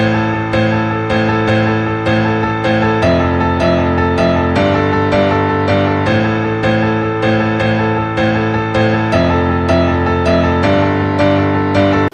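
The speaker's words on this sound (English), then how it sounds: "Impress your friends with this simple but awesome piano melody." Piano plays with both hands, a steady repeating melody over low sustained bass chords that shift every few seconds, loud and close with no talking.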